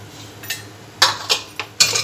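Freshly popped popcorn tipped onto a plate in a home kitchen, giving several quick light clinks and rattles in separate bursts, close and moderately loud, with no talking.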